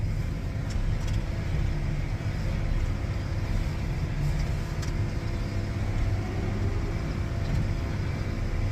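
A bale shredder with a rocking table runs with a steady, loud mechanical drone, constant throughout with a few faint clicks and no speech.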